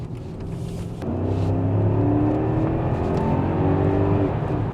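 A Mercedes W211 E550 with a V8 engine pulls away, its smooth engine note rising steadily after a brief quiet start and holding strong, close and loud.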